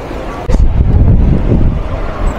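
Strong wind buffets the microphone in a loud, steady roar with gusty surges, muffled and close.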